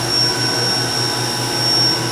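The spindle of a Haas VF-5 CNC vertical mill spins at up to 7,500 RPM, making a steady high-pitched whine over a constant mechanical drone, close and loud for a couple of seconds.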